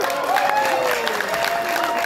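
Audience applause and cheering for Pramono Anung, Jakarta gubernatorial candidate, at M Bloc: dense, steady clapping from a crowd filling the clip, with a faint whistle or cheer riding above it.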